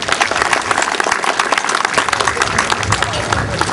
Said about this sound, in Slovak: preto vás chcem poprosiť o jeden veľký potlesk aj pre pána starostu a jeho ľudí